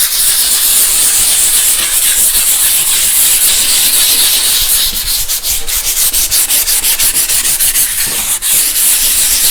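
Close, loud scuff sanding rasps across an old desk surface in rhythmic back-and-forth strokes, a gritty hiss that quickens into rapid short passes midway.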